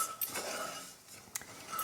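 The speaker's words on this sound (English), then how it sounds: "it's really important to keep stirring because otherwise it will get scorched at the bottom of the pan" Ginger soup stirred in a stainless steel pan, with soft scraping and a couple of sharp metallic clinks from the utensil against the pan, close and fairly quiet with no talk.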